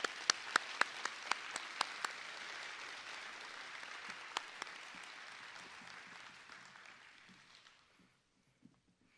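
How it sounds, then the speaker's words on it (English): Audience applause at a school district Hall of Fame and retiree ceremony, a broad wash of many hands clapping with a few sharp nearer claps on top, holding steady for several seconds before fading out, with one stray clap after. "Please join me again in a round of applause."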